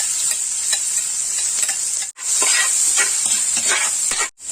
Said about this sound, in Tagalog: Then sautein na natin ang ating ginger.